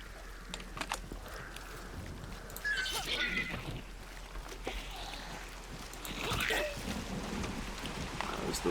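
Steady rain hiss with low rumbling thunder swells from a video game, a continuous wash that builds around the three- and six-second marks, with faint game effects and occasional talk over it.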